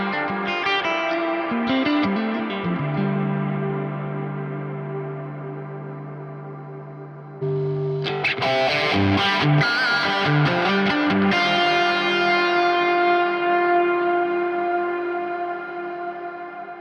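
Electric guitar through a Neural DSP Nano Cortex amp capture with reverb. Sustained chords ring out with a long wash of reverb, then a burst of strummed and picked notes follows, loud and continuous with no talking.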